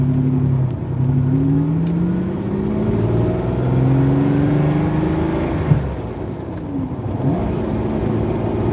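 A Lamborghini Countach cruises along a road, its engine droning steadily with rising and falling pitch as it shifts through gears, loud and close throughout with no talking.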